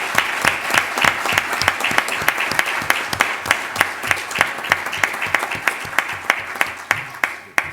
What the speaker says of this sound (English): I ask for a round of applause for the Department of Health and Safety